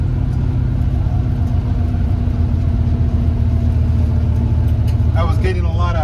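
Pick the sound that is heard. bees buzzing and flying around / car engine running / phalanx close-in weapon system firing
car engine running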